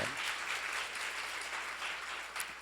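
Applause from a church seminar audience, a dense wash of many hands clapping steadily throughout, moderately distant in a large room.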